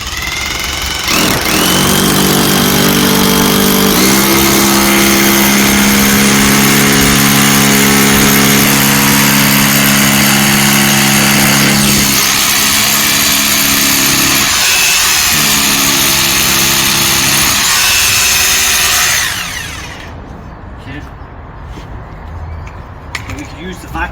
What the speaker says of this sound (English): just drill the pilot hole first